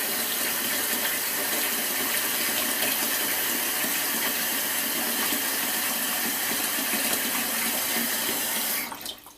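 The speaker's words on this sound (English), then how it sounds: "So fill the pan as much as you can with water." Water runs from a kitchen tap into a pan in a loud, steady rushing stream that keeps going for several seconds before cutting off near the end.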